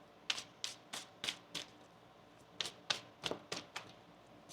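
Tarot cards are shuffled up close, producing a string of sharp, crisp snaps and clicks in uneven clusters over a quiet room background.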